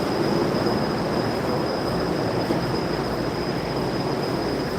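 Train heard from close by, a loud continuous rumble of wheels on rails with a thin steady high squeal over it and no break in the noise.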